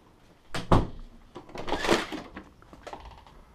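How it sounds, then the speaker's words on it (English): A garage door opener moving a garage door, heard as a mechanical clunk followed by a rattling, rumbling run that fades out, moderately close with no speech. "With my garage door opener."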